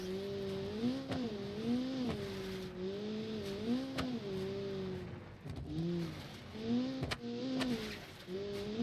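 A Citroen 2CV in the Automation driving game on a Dakar rally stage, its small engine droning steadily with rising and falling pitch as it revs, close and continuous with a few sharp knocks.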